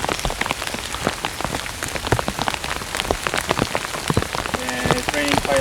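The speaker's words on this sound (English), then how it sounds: "It's pretty heavy raining." Heavy rain pours steadily onto a tent pitched by a lake during a stormy camping trip, a dense continuous patter with many sharp close drops and no voices.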